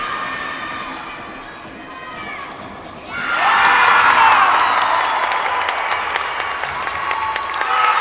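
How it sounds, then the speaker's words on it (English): At a college gymnastics meet, a home arena crowd breaks into loud cheering, shouting and applause after a quieter stretch of murmur, the roar holding steady and full to the end. "Cami Top gets big applause from the Redbird crowd."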